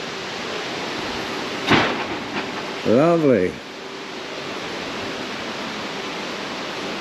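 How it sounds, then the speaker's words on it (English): Steady rain falls outdoors in Zaandam, a constant broadband hiss lasting throughout, with brief speech and a short whistle-like sound partway through. "And it is raining again."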